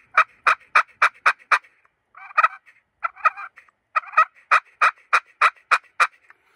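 A plunger-type turkey call produces loud, close gobbles: rapid bursts of sharp repeated notes, then a pause, a few rattling calls, and another fast run of gobbles, with no talking.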